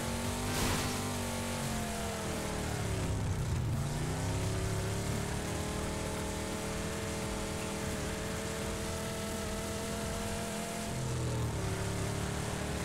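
A vehicle engine hums and revs steadily while driving across the Miramar map in a battle-royale video game, its pitch dipping and rising with gear changes, loud and continuous throughout.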